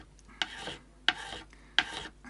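Three rasping strokes of a metal file across a Tokai Firebird guitar part, each a sharp scraping burst followed by a fading grind, evenly spaced and close up with no talk.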